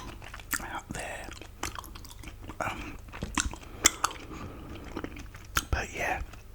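Bubble gum is chewed close up with soft, wet, sticky smacks and little crunchy clicks in an irregular rhythm, and whispered talk is heard between the chews.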